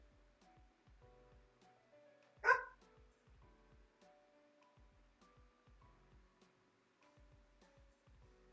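A single dog bark rings out once, sharp and fairly close, over a quiet background of faint ticking game sounds.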